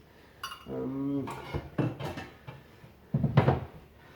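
Pots and glass lids clatter and scrape as they are moved around, with several knocks and clinks close by.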